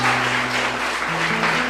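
A church congregation claps in praise during a service, a broad wash of hands under sustained low musical tones that shift pitch partway through.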